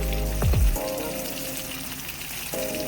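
Vegan fried chicken pieces fry in hot oil over medium-high heat, a close, steady crackling sizzle with a few swelling bursts and tonal hums running underneath, and no talking.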